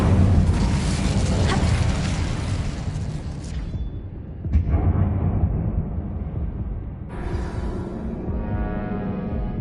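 A fire spell cast in the Hogwarts Legacy game inside an abandoned mine: a dense, loud fiery roar and rumble that thins out, with a sharp burst midway, then another crackling surge.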